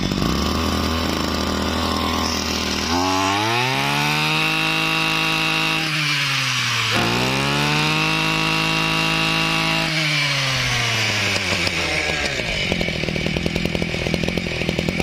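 A loud 26cc two-stroke Komatsu Zenoah brush cutter engine runs close by, revving up and dropping back several times in a steady, buzzing whine.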